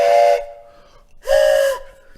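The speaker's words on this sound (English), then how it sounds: "Toot your train whistle." Two loud, steady toy train whistle toots, each about half a second, with a short quiet gap between them.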